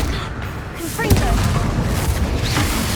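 A fiery Confringo spell explosion in the video game Hogwarts Legacy, a single loud booming blast with a crackling burst, rolling rumble trailing after it, heard close with a voice calling out over the game sound.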